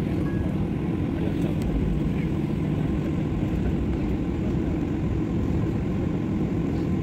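A passenger jet on a trip to Tirupati rolls slowly toward the runway, heard from inside the cabin as a steady, dense low engine roar and hiss with no break.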